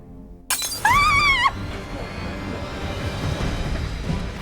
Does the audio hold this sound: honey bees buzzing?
no